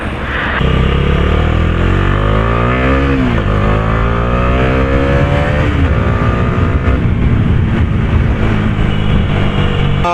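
A Bajaj Dominar 250 motorcycle's 250cc engine roars close and loud as it rides, revving up and down through gear changes with a steady heavy drone throughout.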